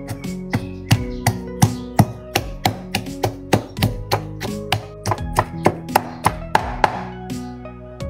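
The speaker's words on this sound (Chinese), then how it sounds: "泡椒切碎点儿" Pickled chili peppers chopped with a knife on a cutting board in a rural kitchen, a steady run of about twenty sharp, close knocks in even rhythm, with no voices.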